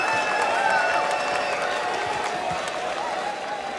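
A crowd applauds and murmurs around a boxing ring in the video game Mafia III, steady moderate clapping with no clear voices.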